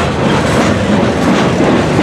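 A CSX freight train, the Q415, rolls past at close range in Brunswick during a railroad days event. Its steady loud rumble carries rhythmic wheel clickety-clack throughout, with no voices.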